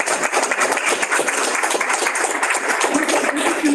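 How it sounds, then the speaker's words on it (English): An audience gives a round of applause for the panelists at a university panel event on Black experiences at TAMIU, a continuous, fairly loud patter of clapping lasting the whole clip. "go ahead and give a round of applause to our panelists"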